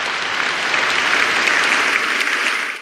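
A loud, dense round of applause from a gathered audience, thick and even from start to finish before cutting off abruptly, with no voices over it.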